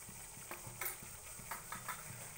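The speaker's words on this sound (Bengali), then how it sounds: "তো হলুদ দেওয়ার পরে এটাকে আমি একটু নেড়ে নিচ্ছি।" A spatula stirs parwal posto with a little turmeric in a pan on low flame, giving faint, rhythmic scraping strokes over a quiet, steady sizzle.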